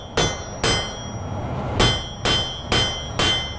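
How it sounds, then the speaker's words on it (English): A blacksmith's hammer delivers six sharp half blows on hot metal at the anvil edge while forging a leaf, spaced unevenly with a short pause midway, each strike ringing loud and close with no talk. "Just use half blows, so half on the anvil and half off."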